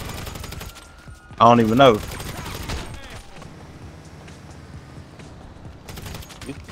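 Rapid video game gunfire rattles in dense bursts, with a loud volley near the start and scattered shots afterward, under casual talk from several people.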